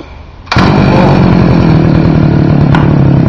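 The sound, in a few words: 52cc SkaterX motorized skateboard engine starting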